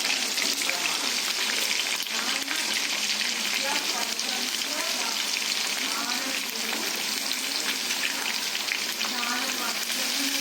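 Bitter gourd pieces fry in a generous amount of oil in a covered pan, making a dense, even sizzle with light spattering crackles and a faint voice underneath.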